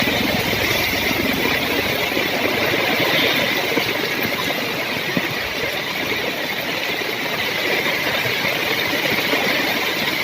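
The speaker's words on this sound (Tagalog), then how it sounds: "Pati nga yung motor nahihirapan na." A motorcycle engine labours through deep flood water on a submerged road during a typhoon, a constant strained drone mixed with splashing and rushing water, loud and unbroken throughout.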